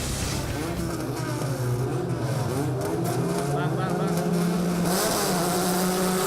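Formula 4 race cars in the 2016 Southeast Asia series pull away from the grid on a wet track, several engines droning and rising in pitch together under continuous commentary.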